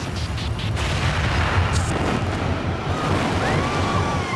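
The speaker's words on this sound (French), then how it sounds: "Une énorme explosion." A huge explosion fills the whole stretch with a loud, dense roaring rumble. It stays steady and heavy, like a blast and its lingering boom, with no voices over it.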